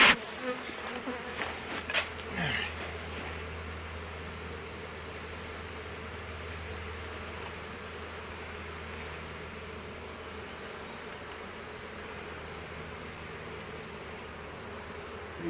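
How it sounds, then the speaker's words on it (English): Dense, steady buzzing of many honeybees close by as colonies are moved into full-size hive boxes, a constant drone with a few brief knocks near the start. "You guys are getting some buzzing noises."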